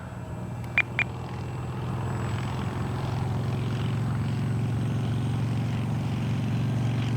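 An X-Fly Spitfire warbird RC model plane flies by on its maiden flight, a steady droning propeller engine hum holding level and continuous throughout, with two brief clicks near the start.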